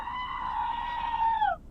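A single drawn-out goat bleat, loud and close, holding a steady wavering tone for over a second before trailing off.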